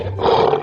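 A lioness in an animal-crossing video game gives one brief, loud, close roar that swells and cuts off abruptly.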